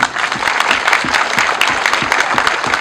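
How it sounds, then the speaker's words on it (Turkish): An audience applauds at the opening ceremony of a martyr's memorial sports facility, dense steady clapping filling the room for about three seconds with no pauses. "aslan yürekli bu güzel kardeşimize de bir alkış alalım"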